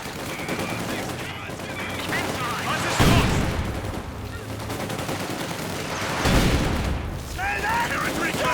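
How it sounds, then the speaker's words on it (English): Grenades explode in the World War II strategy game Company of Heroes 2, two heavy booms standing out from a constant bed of rattling small-arms fire and battle noise, with voices underneath. "grenades going off there"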